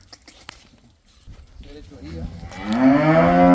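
A cow moos loudly and close by near the end, a long rising bellow following a stretch of quiet murmuring voices and small noises, at a cattle farm sale.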